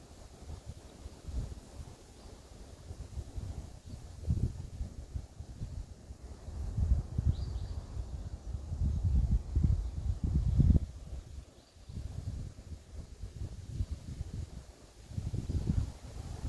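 Wind gusting by a river in a forest, heard as low rumbling buffets on the microphone that rise and fall unevenly, strongest in the middle, with faint outdoor ambience and no voices.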